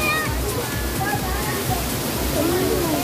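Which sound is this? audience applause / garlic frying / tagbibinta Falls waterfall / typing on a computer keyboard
tagbibinta Falls waterfall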